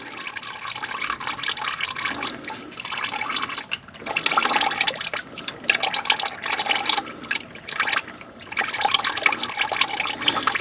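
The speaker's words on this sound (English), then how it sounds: "undo this little valve here, which will let the water start draining out" Water and diesel fuel drain from an opened valve on the fuel filter of a 2021 Jeep Gladiator EcoDiesel, a steady close splashing trickle into a container that surges and pauses, with no voices.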